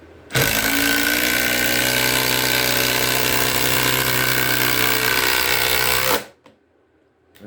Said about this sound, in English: Oh, it already started hammering.